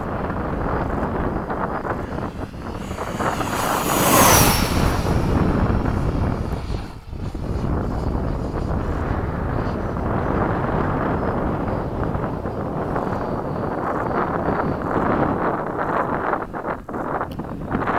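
Freewing 90mm F/A-18 Blue Angel RC jet flying after sunset, a steady whooshing turbine-like roar that swells around mid-pass, with wind buffeting the microphone throughout.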